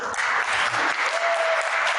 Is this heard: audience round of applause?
yes